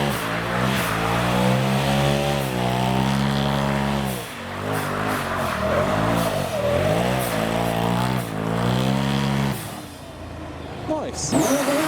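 A road-legal Le Mans race car drives past loud and close, its engine droning and shifting pitch as it revs and eases, with a brief tire noise near the end; people talk over it.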